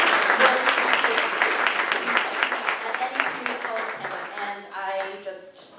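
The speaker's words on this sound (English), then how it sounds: "And let's have a round of applause for that." Applause from the audience at a student and staff speakers' event, a dense wash of many hands clapping that gradually thins, with a voice starting to speak over the last moments.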